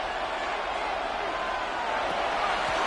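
Stadium crowd noise swelling at an American football game during a big play, a dense continuous roar under a commentator's voice.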